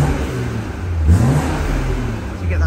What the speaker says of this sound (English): it is certainly a lovely noise upgrade from that M Performance exhaust